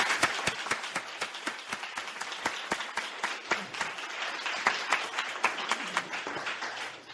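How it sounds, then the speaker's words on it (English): A crowd applauds panelists at a USDA Pride celebration, a dense, even patter of clapping that stays moderately quiet and continuous from start to finish. "Can we get a big round of applause for our panelists today?"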